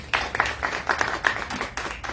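A small audience claps in welcome for a speaker at a morning environmental talk, a brief burst of scattered, uneven handclaps near the listener with no voices over it.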